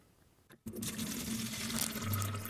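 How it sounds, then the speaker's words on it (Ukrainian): Liquid tomato fertilizer solution of mono potassium phosphate pours from a small jar into a watering can, a close, steady splashing stream that starts abruptly and continues to the end. "Гарненько розмішаю і виливаю в лійку"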